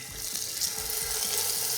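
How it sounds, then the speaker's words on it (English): A steak sizzles in olive oil in a cast iron pan, giving a steady, faint hissing crackle with soft popping throughout and no talk. "You want to hear that sizzle, and that is exactly what we need."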